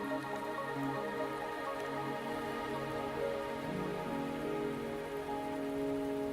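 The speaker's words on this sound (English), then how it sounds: "Are you trapped here by the rain?" Steady rain pours down in an anime-style video game scene, a dense continuous patter of drops and drips held under a low tonal hum, with no one speaking.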